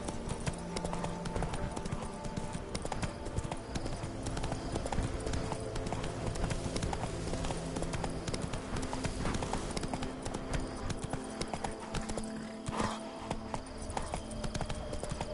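Roach, a horse in The Witcher 3, clip-clops in a continuous, dense rhythm of hoofbeats, close and loud throughout with a busy background, and someone speaks only briefly.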